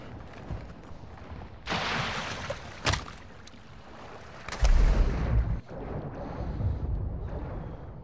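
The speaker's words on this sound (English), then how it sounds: "I got a mortar strike" Mortar strike in the Warzone Resurgence video game: several heavy booming impacts land a few seconds apart, with a deep rumbling blast near the middle, all over gusty outdoor noise.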